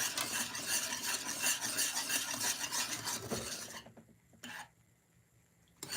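Homemade banana pudding being stirred in a pot, a steady scraping, swishing stir with utensil rubbing that runs for about four seconds, then stops, leaving near quiet broken by a couple of short knocks.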